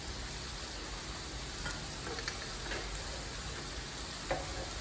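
Keto picadillo with Spanish olives cooking down in a pan, a soft continuous sizzle with occasional stirring clicks, fairly quiet and close.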